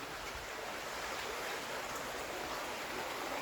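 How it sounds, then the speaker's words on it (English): Bradshaw Brook flowing over its bed, a steady broadband rush of stream water heard close and continuous without talk. "Bradshaw Brook flows."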